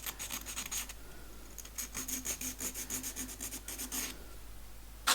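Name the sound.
rounding corners of a wooden box by filing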